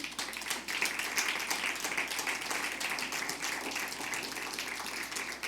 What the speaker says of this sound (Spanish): ¿Alguien le podrá dar un aplauso fuerte al Señor?